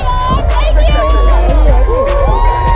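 A wild audience at a live seminar event cheers and shouts from all sides, with whoops and excited voices layered over a dense, loud crowd roar that continues throughout.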